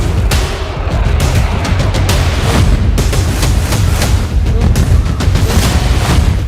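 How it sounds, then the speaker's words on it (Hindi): Rapid series of heavy bomb explosions amid a missile barrage, with dense, continuous booming and sharp cracking blasts filling the whole stretch, loud and close, with no clear gaps between impacts. "सिलसिलेवार बम धमाके,"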